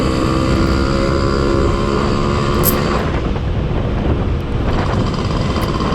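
A Suzuki RC100 motorcycle rides along on an evening road, its engine droning steadily under heavy wind rush with no pauses or speech.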